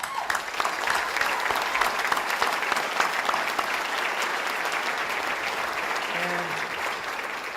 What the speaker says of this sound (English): You deserve a big round of applause for what you have done for this region.